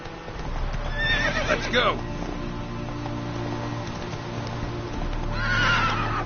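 Roach, the horse in The Witcher 3, neighs twice in loud, shrill whinnies over a steady rumble of galloping hooves, while a voice calls out briefly.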